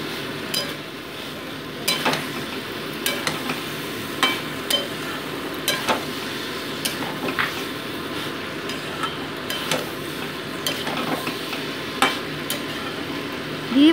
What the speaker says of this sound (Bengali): সবজির সাথে ভালো করে এই ভাজা মাছগুলোকে মিশিয়ে নিচ্ছি